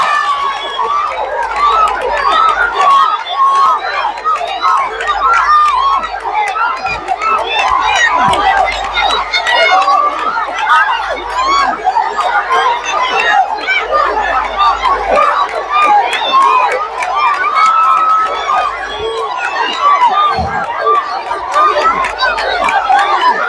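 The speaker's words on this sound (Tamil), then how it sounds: "எங்கே உங்கள் கரகோஷம்?" A university crowd at a Pongal traditional games event roars with cheering, shouting and chatter, a loud continuous din sustained for many seconds with voices throughout.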